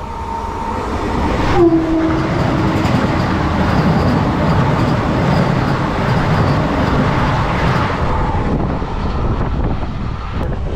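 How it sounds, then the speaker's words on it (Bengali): The Vande Bharat express, running from New Jalpaiguri to Katihar, speeds through the small Panjipara station in Bengal. Its loud, sustained rumble and rushing roar start after a brief horn-like tone and hold steady before easing near the end. "দেখুন বন্দে ভারত কীভাবে ছুটছে"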